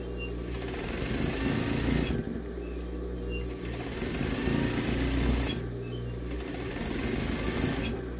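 Sewing machine running in steady bursts while stitching the seams of a swimsuit being turned from a one-piece into a two-piece, a close, even mechanical whir with brief pauses between runs.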